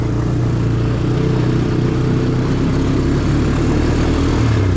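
Honda Recon 250 ATV ridden downhill, accelerating and shifting up through its gears; a loud steady engine drone with a slight change in pitch near the end, no talk.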